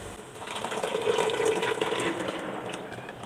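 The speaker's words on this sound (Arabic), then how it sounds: "هنزل بقى عليها بعصير الطماطم" Tomato juice pours onto softened onions in a pot, a continuous liquid gush that swells in the middle and eases off, close and moderately soft.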